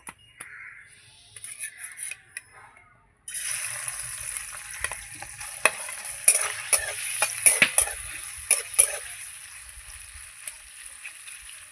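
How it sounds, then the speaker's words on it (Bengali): Prawns hit hot oil in a pan: a brief quiet start, then a loud, sustained sizzle and crackle, with clattering stirring knocks that grow busier toward the end. "এই যে তেল গরম হয়ে গেছে, এবার আমি চিংড়ি মাছগুলো দিয়ে দেবো।"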